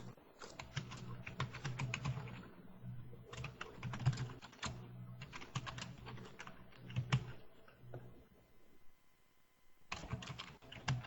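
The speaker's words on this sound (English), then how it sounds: "you're typing pretty vigorously" Vigorous typing on a computer keyboard, close and distinct, comes in fast bursts of clattering keystrokes separated by short pauses, with no talking.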